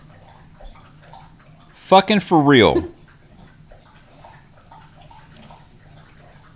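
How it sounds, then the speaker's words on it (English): A dog laps a big drink from its water dish, a short burst of wet splashing slurps close by, with a voice swearing just before and quiet room tone around it. "my dog decided to just take a big old drink out of the water dish"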